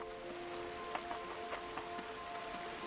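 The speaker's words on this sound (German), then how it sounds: "Oh, es regnet wieder." Soft rain falls in the fantasy game Bandle Tale, a faint, even patter with scattered drop ticks under quiet sustained musical tones.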